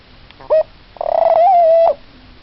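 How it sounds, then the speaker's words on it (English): A pet bird gives a short coo, then a longer sustained warbling call close to the listener, loud and clear against a quiet background. "He's doing one of his bird calls"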